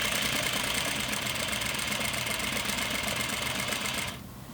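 An industrial sewing machine stitches flannel pajama pants with a steady, dense motor whir that runs continuously for about four seconds before cutting off abruptly, leaving a quiet room tone.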